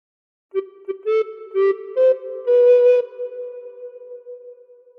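Recorder playing the opening phrase of Happy Birthday, a short series of clear, breathy whistle-like notes, the first ones short and detached and the last held longer before fading, solo and close.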